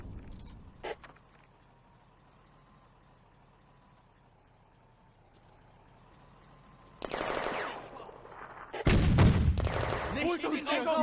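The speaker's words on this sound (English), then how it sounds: "The anti-tank gun fires at German infantry advancing on the left flank." An anti-tank gun firing in the WWII game Firefight at a railway junction: after a long quiet stretch with a faint engine hum and one early crack, loud gunfire and a deep, booming shot erupt close by near the end, with a brief voice.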